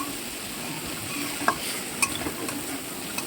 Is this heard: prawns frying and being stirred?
yes